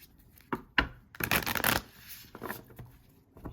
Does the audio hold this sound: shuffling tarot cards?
yes